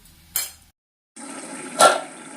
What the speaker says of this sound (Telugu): ఇప్పుడు కొద్దిగా వాటర్ వేసుకుందాము